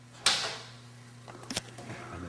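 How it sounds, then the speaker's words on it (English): A pantry door opens with a sharp knock and swish, followed a second later by a couple of softer clunks and rattles, close by over a low steady hum. "And the door opens, terrifying, and there's nothing but shelves of food and stuff."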